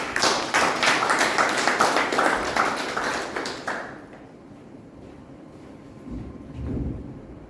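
Audience at a Toastmasters club meeting applauding as an evaluator is called up, a few seconds of clear clapping that stops around the four-second mark, followed by quiet room noise.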